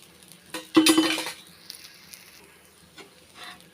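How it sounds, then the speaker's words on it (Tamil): Thanjavur-style adai flatbread is flipped in an oiled pan: a metal spatula scrapes and clinks loudly once, then a soft sizzle carries on with a few faint taps. "ஒரு சைடு வெந்துருச்சு திருப்பி போட்டுக்கிறேன்"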